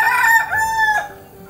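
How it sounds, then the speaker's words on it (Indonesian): A rooster crows once, loud and close, in a drawn-out rising-then-falling call lasting about a second. "Saya punya ayam tinggal berapa ekor je lagi."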